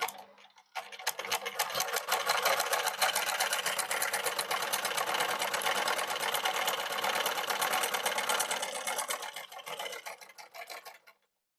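A sewing machine stitches a bead stitch in one continuous run, a close, fast, even mechanical whirr with rapid ticking that starts abruptly and winds down near the end.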